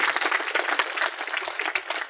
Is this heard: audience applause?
yes